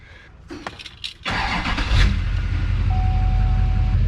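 A 1993 GMT400 Suburban engine cranks and catches, then settles into a loud, steady low rumble that keeps running without a break.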